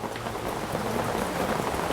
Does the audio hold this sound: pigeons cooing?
no